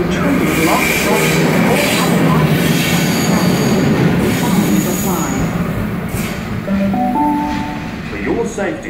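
A train sits at a busy station platform in Parramatta, with continuous rumbling and a brief wheel squeal, while a station announcement voice speaks over it.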